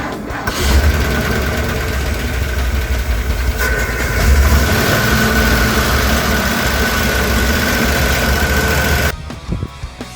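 A 1977 Ford F250 Dentside truck engine cranks and catches, then settles into a steady, rumbling idle close by for several seconds before cutting off abruptly near the end.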